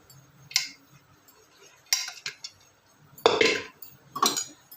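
Dal is stirred in a pot in four separate bursts of scraping and clinking as a utensil knocks against the metal, with quiet gaps between them.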